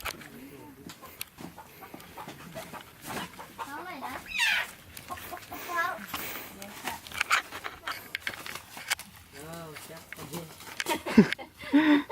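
A farm chicken clucks and squawks in agitated bursts while being chased and caught, with people talking loudly over the commotion throughout.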